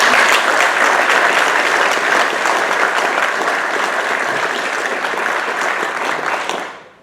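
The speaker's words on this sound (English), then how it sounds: "Let's give each of you a warm round of applause." Warm, dense applause from an audience honoring military veterans at a leadership speaker series, steady and loud for several seconds before quickly fading out at the end.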